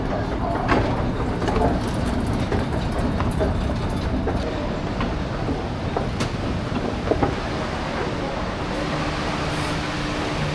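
A New York subway train rides along with a loud, continuous rumble and rattle, steady clickety-clack and occasional metallic squeaks and clanks throughout.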